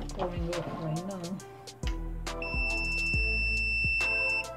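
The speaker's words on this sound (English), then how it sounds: "Mind the beep, it's just telling me that it's turning on." A soldering station gives a high electronic beep twice, steady tones as it powers on, while a person talks throughout.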